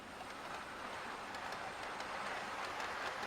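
Merchant Navy model railway locomotive hauling carriages along a loft layout, a faint steady rolling rumble with light rhythmic clicks of wheels over rail joints, heard at a distance.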